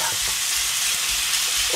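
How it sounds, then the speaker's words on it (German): Chicken pieces sizzle and fry in a hot pan, a loud continuous crackling hiss with faint stirring scrapes, close up and with no talk. "Und dann tun wir das jetzt einfach schön anbraten,"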